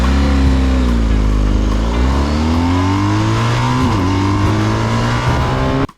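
A German adventure motorcycle accelerates hard off road in the Sahara, its engine loud and close, pitch rising through quick-shifted gear changes with brief dips between them.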